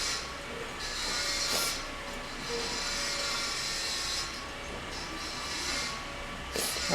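Mug cake batter with melted butter and oil being stirred in a mug, a continuous soft scraping and swishing with occasional louder clinks, close and quiet.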